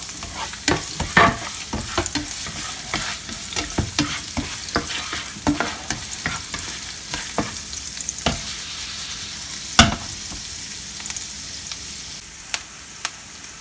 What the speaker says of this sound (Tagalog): huwag nyo susunugin gano'n yung bawang tsaka yung sibuyas.